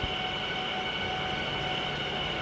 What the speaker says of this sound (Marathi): आणि बघा अजून एक लोकल आली आहे, ती जाते थेट दिवा जंक्शनला